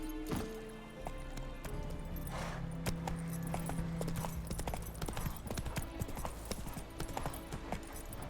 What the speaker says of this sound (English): I am just galloping the hell out of Roach.